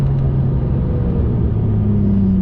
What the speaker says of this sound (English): And this engine howls, and it's got so many different sounds, organic sounds